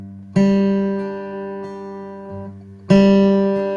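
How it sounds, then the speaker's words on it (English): Fingerpicked guitar with the index-finger notes accented and the thumb, middle and ring fingers played softer: two clear plucked attacks about two and a half seconds apart, each ringing and decaying, close and alone. "I pluck a little more attack with that finger, but I also back off on the thumb, middle, and ring fingers"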